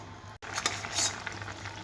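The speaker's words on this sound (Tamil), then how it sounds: "இது கொஞ்சம் கொதிக்கட்டுங்க." Ridge gourd kootu bubbling and simmering in a pan, a quiet steady hiss with small soft pops and faint clinks close by, no talking.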